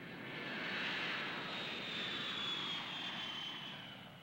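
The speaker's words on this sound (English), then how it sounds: "I think that's my plane now." An airplane passes overhead near the Kona coast of Hawaii, its engine roar swelling to a broad steady drone and then slowly easing away, heard alone.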